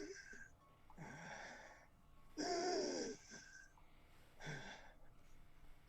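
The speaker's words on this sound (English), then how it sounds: "You hear inside a raspy breathing." Raspy, wheezing breaths come from inside a space, four drawn-out rasping inhales and exhales at an uneven pace, quiet and close.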